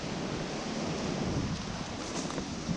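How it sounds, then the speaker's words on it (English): Strong wind on an Adirondacks hilltop rushes steadily in a dense, roaring hiss, with occasional low buffeting gusts. "It is some windy up here, let me tell you."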